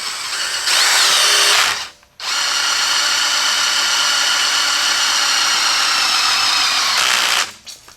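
An electric drill whirs loudly and steadily, pauses briefly, then revs up again for a long continuous run before spinning down.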